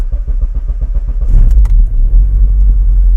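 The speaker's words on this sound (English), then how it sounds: "it took a little bit more cranks than I'd like to see to get the engine to fire off" A K24-engined Honda Civic running flex fuel cranks for a couple of seconds with a rhythmic starter chug, then fires and settles into a loud, rumbling idle, close up.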